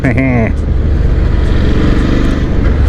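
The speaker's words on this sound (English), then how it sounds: "I love the chugga chugga chugga-ness of the engine." A 2022 Ducati Scrambler 1100 twin engine chugs steadily on the ride, loud and close, with a brief voice at the start before the engine continues alone.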